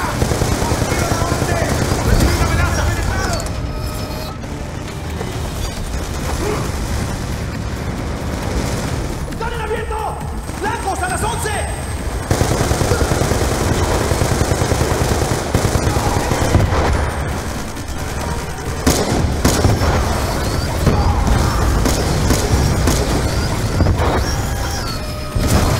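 Suppressive gunfire in Call of Duty Black Ops 2, a dense, sustained stream of shots and blasts running through most of the clip, mixed with battle noise and shouted voices.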